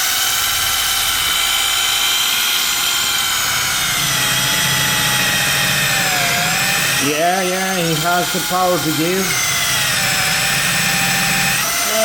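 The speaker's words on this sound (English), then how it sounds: "Oh, it's drilling very good." A Parkside PBSA 12 B1 cordless drill runs continuously into very hard wood, giving a loud, steady high whine throughout, while someone talks over it partway through.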